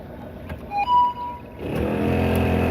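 An old Toyota Corolla's air conditioning switching on: a few short tones, then a steady, fairly loud rush of air fills the cabin and holds.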